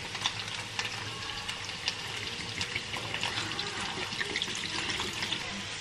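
Strongly carbonated water, kept chilled in the freezer, poured out as 200 ml, giving a close, steady fizzing and splashing stream with crackling bubbles throughout.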